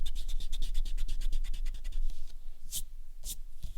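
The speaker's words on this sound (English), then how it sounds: "take your eraser and erase the middle line of our drawing" A pencil eraser rubs back and forth on drawing paper in quick, rhythmic scrubbing strokes, close and steady for a few seconds, then a couple of louder separate swipes near the end.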